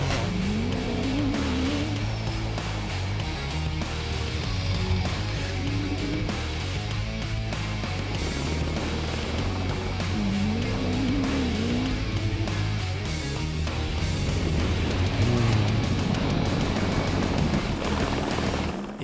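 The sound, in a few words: rally raid cars racing on a special stage in Morocco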